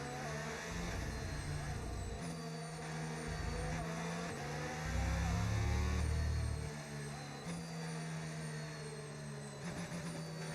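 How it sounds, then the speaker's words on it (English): Race cars in the F1 25 video game roll toward the starting grid at Imola, a steady layered engine drone with rising and falling revs, continuous and moderately loud. "As the cars make their way back to the starting grid to form up and get ready for lights out"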